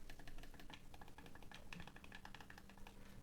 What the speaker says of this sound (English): it's a good D-pad. It's nice and clicky.